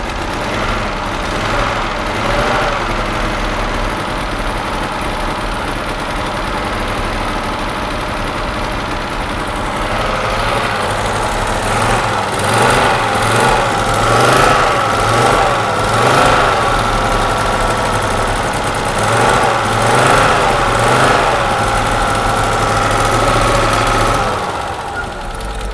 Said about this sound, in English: One running five-cylinder Audi.